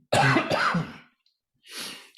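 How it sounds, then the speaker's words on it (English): A close, harsh burst of coughing, then a pause and a rough, breathy follow-up cough. "Thanks for fighting through this cough"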